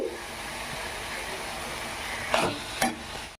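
Chopped ivy gourd pieces fry steadily in hot oil for a traditional tomato chutney, giving a continuous close sizzle with two brief louder bursts near the end as the pan is stirred.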